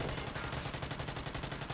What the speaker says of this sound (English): Oh, they're shooting in your house.